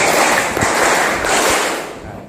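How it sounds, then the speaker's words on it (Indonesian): A classroom group claps together on cue in a counted rhythm, producing loud, sharp, dense bursts of hand claps that fade slightly at the end, with no voice over them. "Ulangi, tepuk 4. Oke. Tepuk 5."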